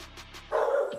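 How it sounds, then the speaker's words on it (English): A pet dog in a home barks once, loud and close, after a few softer muffled sounds, the bark trailing off quickly. "oh, my fault. That's my dog."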